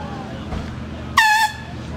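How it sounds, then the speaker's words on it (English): A single short air horn blast sounds during a vessel safety check at Blue Marsh Lake, loud and close, lasting about a quarter second, surrounded by people speaking. "Need a horn, air horn."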